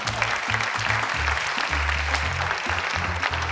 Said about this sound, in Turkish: su yere diz çöküp alkışlama